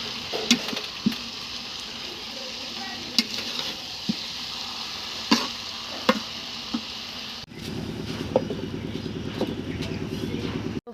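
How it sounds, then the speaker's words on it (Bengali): Potatoes fry in hot oil with onion and garlic, giving a steady sizzle with occasional stirring clatters. Partway through, the frying grows louder and denser as the potatoes are stirred in. "আমি আলু ভাজির জন্য আমি আলুটা উঠিয়ে দেব।"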